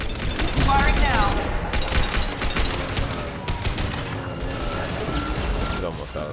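Gunfire in the video game Mass Effect 2 on Insanity difficulty, dense overlapping shots and bursts crackling across the whole stretch over game sound, loud and continuous with sharp impacts.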